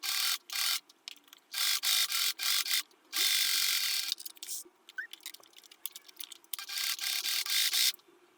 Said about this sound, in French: je règle ma machine sur la longueur de point la plus longue et je couds 2 coutures parallèles sans point d'arrêt